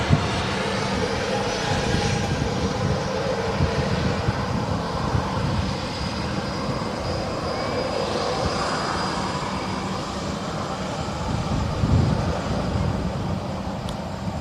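Ryanair Boeing 737 jet at Manchester Airport, a steady broad engine roar holding fairly loud and even for the whole stretch, with no voices over it.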